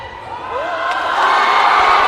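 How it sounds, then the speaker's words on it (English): A basketball crowd in a men's league final swells into oohs and cheering, growing louder and fuller toward the end with a rising whoop. "Oohs and ahs from the crowd"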